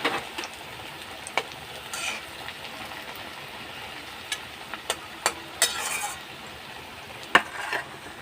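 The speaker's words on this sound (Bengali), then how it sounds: "এবার এগুলোকেও আমি আগের মতো ভেজে নেব।" Pressed onion fritters (piyaji) frying in hot oil, a soft continuous sizzle punctuated by sharp scattered clicks of a utensil against the pan, fairly quiet with no talk.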